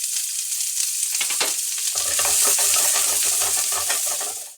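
Sliced onions hit hot ghee for mutton biryani, bursting into a loud, close sizzle that settles into steady crackling frying with a few stirring clicks.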